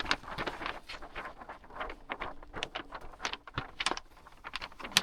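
Gift wrapping paper being cut with scissors, a string of crisp snips and rustles, close and irregular, with no talking.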